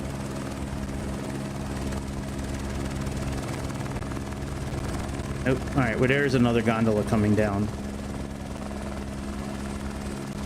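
A helicopter in a flight simulator game, parked at Cape Town airport, gives off a steady droning engine and rotor hum throughout. Someone talks briefly over it near the middle.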